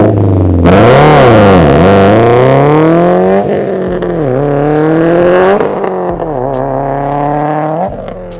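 A Subaru's engine revs hard while driving, loud and close, with pitch climbing and dropping through repeated throttle blips and gear changes, with no talk over it.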